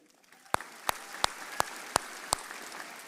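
Graduation-ceremony crowd clapping for board members: a low background of applause punctuated by a close, distinct clap landing roughly every third of a second.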